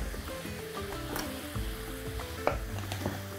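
Sliced mushrooms fry in a pan, giving a low, steady sizzle and frying hiss that runs throughout, with a few soft stirring knocks along the way.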